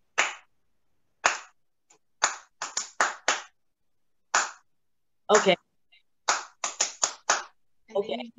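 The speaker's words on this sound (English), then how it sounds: "So tell me, what is the cricket clap?" A cricket clap played as a rhythmic hand-clapping pattern: sharp, close, isolated claps in short bursts and quick groups separated by silence, with a brief spoken word near the end.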